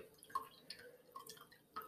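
Strained milk curds for casein plastic drip liquid in a few soft, separate drops, quiet and close against a faint background.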